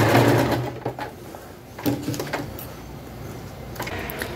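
A sewing machine runs a straight stitch through denim for a jeans bag, a close whirring burst at the start followed by short stop-start runs and soft handling clicks.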